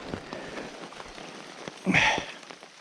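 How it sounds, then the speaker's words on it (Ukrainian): Rain falls through a spruce forest during mushroom picking, soft patters and drips with a brief louder rustle near the end, no talking. "Так дощ не перестає."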